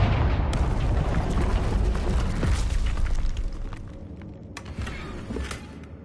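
Confringo blasting spell exploding in the Hogwarts Legacy video game, a heavy deep boom with a rumbling tail that decays over several seconds, followed by a couple of sharper cracks.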